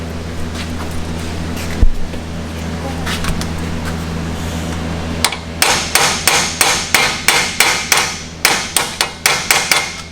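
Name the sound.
hammer tapping axle bearing into place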